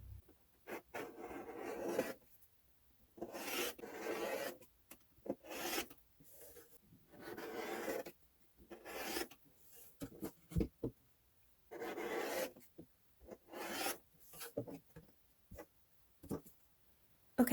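Quilt blocks being trimmed, probably with a rotary cutter, during a quilt-as-you-go project: repeated scraping, rasping strokes in short bursts, each a second or two long with pauses between, close and fairly quiet.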